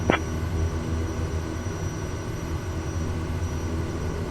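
Small propeller aircraft taxiing for departure, a steady engine drone heard from inside, constant and moderately loud, with a brief chirp at the start.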